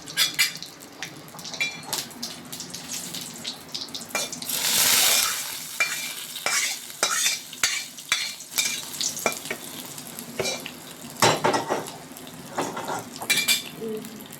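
Cumin seeds and dried red chillies crackle and sizzle in hot oil for a South Indian tempering, mixed with repeated metal spoon clinks and scraping against the pan, loud bursts of spitting oil rising midway.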